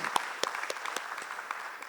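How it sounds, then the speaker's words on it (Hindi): Faint applause from an audience at a financial advisory business gathering, scattered claps with a few sharper hand strikes standing out, brief and distant. "तो जोरदार तालियां उसके लिए."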